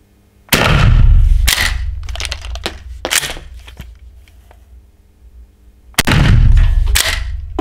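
A pump-action shotgun fires Frontier shells at a 15-meter target. Two loud, sharp blasts go off several seconds apart, each followed by a rolling echo, with racking clatter in between.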